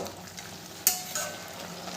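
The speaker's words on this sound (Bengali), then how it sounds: "শাকটাকে ভালো করে নেড়ে দেবো" Quiet stirring of gourd greens with bori lentil dumplings in a pan, a soft low sizzle beneath a couple of sharp scraping clicks from the spoon.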